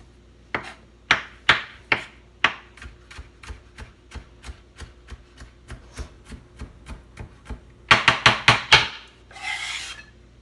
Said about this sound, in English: I crush them and then I chop them up.